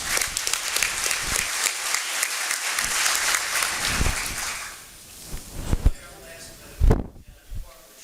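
An audience at a mayor's State of the City address applauds for a volunteer leader, dense clapping that carries for several seconds and then thins out to a few scattered claps and thumps near the end.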